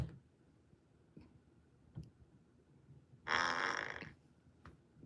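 A fart sound effect: one buzzy, raspy burst lasting under a second, loud against a near-silent background dotted with a few soft clicks.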